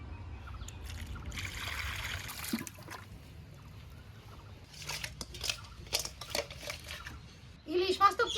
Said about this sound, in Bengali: আমি তো দুই একবার আলতোভাবে ধুয়ে নেবো একদম খলো করে ধুবো না